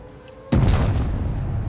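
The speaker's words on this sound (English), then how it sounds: "But WZ is gonna have to shoot the FV." A single heavy cannon shot from a WZ tank firing at an FV in WoT Blitz, one sudden loud boom after a quiet half second, leaving a long rumbling decay.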